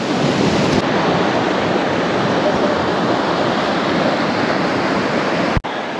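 Loud, continuous rush of the fast-flowing River Wye at Symonds Yat, a dense broadband roar that stays steady throughout, with a brief sharp knock near the end.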